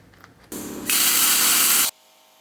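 A power grinder whines up against a rusted metal truck floor while grinding it down to bare metal, in a short, loud, high-pitched burst that stops abruptly after about a second and a half.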